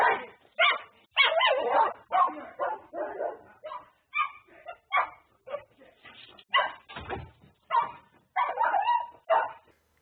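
Several dogs bark and yip in bursts during a confrontation, a big burly dog going after a small puppy, with sharp, loud, close barks in an uneven rhythm and a few whimpers between them.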